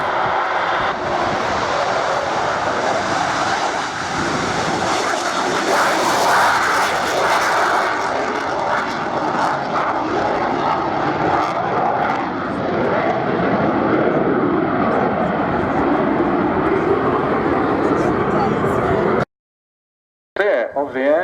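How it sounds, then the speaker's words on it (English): An Anson maritime reconnaissance propeller aircraft passes at an air show at Yeovilton, giving a loud, steady engine drone that holds for about twenty seconds before a brief dropout near the end. "The aircraft itself, named after Admiral George Anson, originally developed for maritime reconnaissance"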